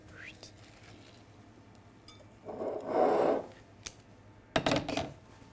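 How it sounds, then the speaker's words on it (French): Hot milk being whisked into egg yolks for pastry cream, a quiet metallic scraping and rasping of a whisk in a bowl in a couple of bursts, with faint clinks and soft background noise. "On mélange bien, sinon les jaunes vont cuire"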